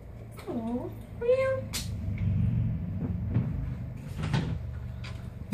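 A cat gives several short, close meows with rising and falling pitch, amid household clatter like a cupboard or door, and a person speaks softly nearby.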